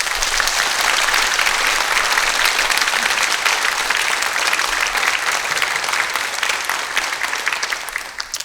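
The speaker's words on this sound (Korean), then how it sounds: "우리 서울시 유스 오케스트라에게 큰 박수 부탁드립니다." Sustained applause from a concert audience greeting a Seoul youth orchestra of young classical players, steady dense clapping throughout that fades slightly toward the end.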